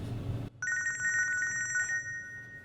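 An indoor telephone bell trills in one steady burst of a bit over a second after a brief noisy moment. The ring is moderately loud against a quiet room, and no voices are heard.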